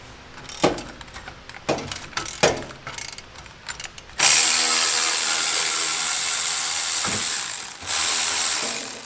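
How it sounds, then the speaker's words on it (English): Ratchet clicks and metallic clanks while the exhaust tail section is unbolted from a Honda S2000, in short close bursts, followed by a loud, sustained power-tool whir with a brief dip near the end. "So I'll unbolt this tail section really quick"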